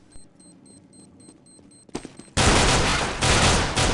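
P250 pistol gunfire in a Counter-Strike match, with several quick shots going off before a loud, dense burst of firing and impacts that continues to the end.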